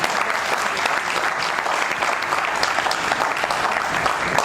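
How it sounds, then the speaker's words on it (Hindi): A crowd at a state-level felicitation ceremony for nurse teachers gives sustained, loud applause, a dense steady clapping that fills the whole stretch without a break. "इन सब के सम्मान में एक बार जोरदार ताली हो जाए।"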